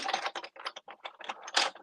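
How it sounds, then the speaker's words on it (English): A die-cutting machine works through paper pieces with a quick, close run of dry clicking and rattling bursts that comes in uneven pulses. "let's take this over to the die cutting machine."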